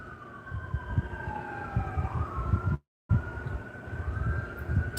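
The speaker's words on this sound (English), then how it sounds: "I hope everyone is all right out there with the sirens that I'm hearing." Several wailing sirens overlap in the distance, rising and falling over low traffic rumble, with a brief dropout in the middle.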